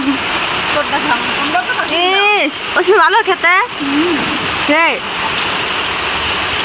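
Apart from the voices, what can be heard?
heavy rain falling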